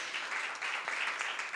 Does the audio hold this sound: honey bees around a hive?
no